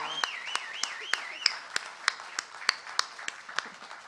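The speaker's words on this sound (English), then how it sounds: "Big round of applause, please." A small recital audience claps for a young performer in steady, evenly spaced single claps, fairly close, with a thin wavering tone drifting over the start.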